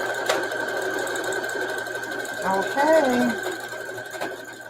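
A sewing machine stitches a fabric postcard with a steady mechanical whir and rhythmic clatter, slightly off in tone, while a person speaks briefly over it.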